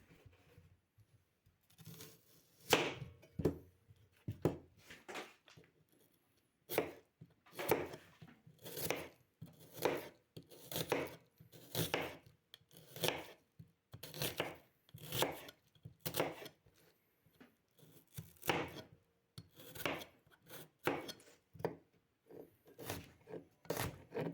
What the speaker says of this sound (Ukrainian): А цибулю нарізаємо дрібним кубиком.